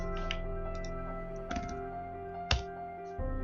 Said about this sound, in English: We start the server by typing the start command.